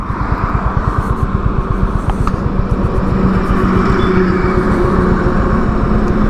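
A Honda CB350 motorcycle laboring in second gear with two riders aboard, its engine a steady low, rumbling pulse with rhythmic firing beats that holds for several seconds, loud and close, with no talk over it.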